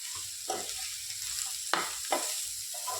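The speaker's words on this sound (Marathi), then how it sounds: "आता हे परतून घेऊयात" Finely chopped bottle gourd sautés in a pan with a constant soft sizzle, punctuated by a few sharp scraping stir strokes, close up and without any talking.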